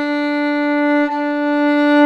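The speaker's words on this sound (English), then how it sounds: "This is the sound of my bow traveling horizontally over the surface of the string," A single sustained bowed fiddle note, steady and rich, held for the full duration with only a slight waver partway through.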